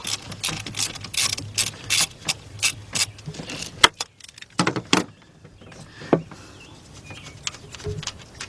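A ratchet wrench loosens the low-pressure AC compressor line on a Cadillac Escalade or similar GM truck, close, loud bursts of rapid clicking with short pauses between, alone.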